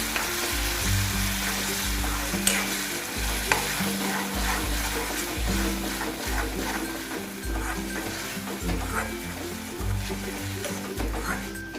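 Tomato puree being stirred into dum aloo gravy in a pan, with a repeated rhythmic scraping stir over a continuous frying sizzle, close and fairly loud, no talk.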